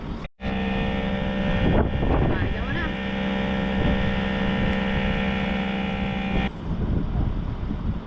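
Small air pump inflating a flat vehicle tyre by a roadside on an outback trip, a steady loud mechanical drone with strong tonal hum running for about six seconds before cutting off, with wind noise around it.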